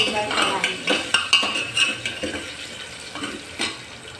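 Potatoes fry in a pan for mor dhan khichdi while a spoon stirs and scrapes against the metal in quick, irregular clinks over a soft, steady sizzle.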